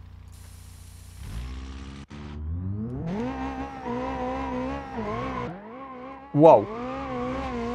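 A modded, turbocharged Hirochi Mistral on nitrous speeds along in the BeamNG driving game. The engine revs climb in pitch through gear shifts, and a sharp tire squeal rises near the end. A voice briefly exclaims once.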